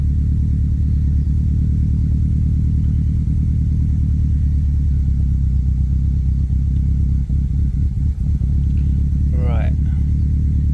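A Subaru Impreza WRX STI engine runs steadily after a cold start, a loud, even low burble with a brief voice near the end.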